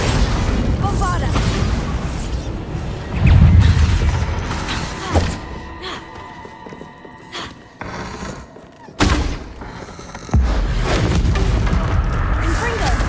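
Bombarda blasting spells from Hogwarts Legacy go off amid a chaotic duel, with repeated heavy booms and thuds, a loud burst near the start and more impacts later, mixed with other spell effects, mechanical clatter and voices.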